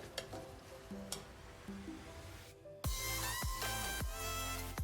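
Beetroot biryani with coriander and mint being stirred in a pot, a steady sizzle with a few scraping strokes that grow louder and busier toward the end.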